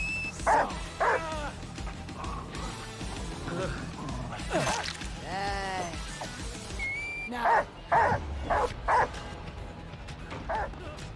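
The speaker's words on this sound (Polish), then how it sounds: "Pies mi się zbugował." A dog in a video game barks and yips in short repeated bursts over busy game effects, with sweeping whooshes and tonal chirps in between, fairly loud and up close.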